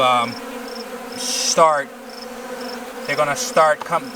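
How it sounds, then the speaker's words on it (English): A steady honeybee buzz hums throughout around a hive, with brief louder swells of buzzing and faint rustling now and then, close by. "the bees, as you can see, they're already covering her"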